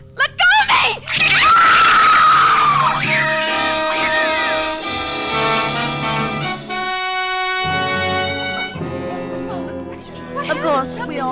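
A woman lets out a long, loud, high-pitched scream, with more shouting and speech around it and a tense tone throughout.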